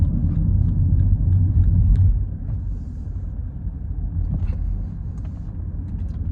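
Interior cabin drone of a BMW 218i Gran Tourer on a test drive, a steady low engine and road rumble that drops slightly in level partway, with faint ticks and rattles above, no talking.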